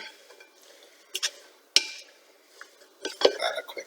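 Pea salad is tossed quickly in a bowl, giving a few sharp clinks and scrapes of a utensil against the dish with quiet gaps between them, close by.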